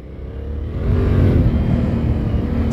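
A Yamaha Ténéré 700 motorcycle engine rumbles and revs up, growing louder and holding a steady low drone, with wind noise around it.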